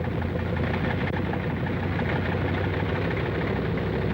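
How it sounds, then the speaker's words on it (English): A steady, loud engine drone runs without a break, a deep low rumble with a broad hiss above it: WWII aircraft engines warming up before dawn on an Aleutian Islands airfield flanked by mountains. "The sound of the engines warming up starts before dawn"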